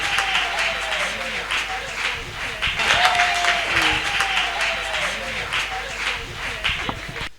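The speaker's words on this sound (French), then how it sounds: "On les reçoit avec des acclamations." Sustained applause and cheering for teenagers at a church youth day event, steady crowd clapping mixed with raised voices and shouts, fairly loud and continuous throughout.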